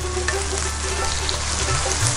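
Frozen garlic and ginger hit hot oil with a steady, dense frying hiss that stays even throughout, close up with no talking.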